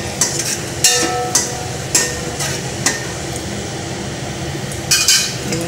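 A spoon stirs dried red chillies, bay leaf and cumin frying in mustard oil in a pot, giving regular metallic clinks against the rim over a steady low sizzle.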